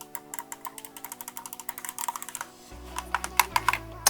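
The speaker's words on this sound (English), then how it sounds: "The D-pad, it's like a little click wheel." The D-pad on a Razer Wolverine Chroma V2 controller clicks rapidly and close, with a steady stream of crisp, sharp clicks throughout and no voice.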